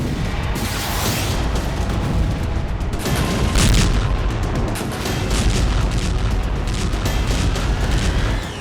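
Russian artillery bombardment pounds positions in Donetsk in Ukraine, heard as a loud, continuous roar of booming blasts and rumble that swells around the midpoint and never lets up.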